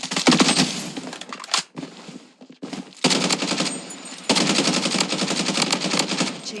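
Glock pistol fire in a shooter video game, rapid bursts of sharp shots in quick succession, broken by a short lull with clicks, then dense continuous firing.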